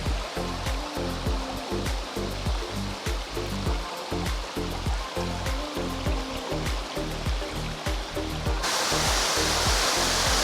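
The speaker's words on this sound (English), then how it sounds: "Rocky Mouth Waterfall is fed by a natural spring and flows from about 40 feet high." Spring-fed waterfall about 40 feet high at Rocky Mouth in Utah, pouring over rocks in a steady, dense rush of white water, loud and close, with a slight rise in intensity near the end.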